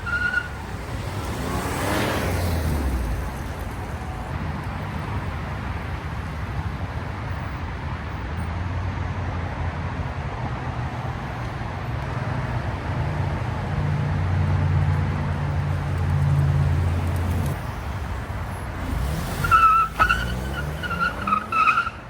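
2004 Lexus RX 330 with a naturally aspirated engine driven hard, a continuous engine drone and road noise rising under acceleration, with a brief tire squeal near the start and a few faint voices at the end.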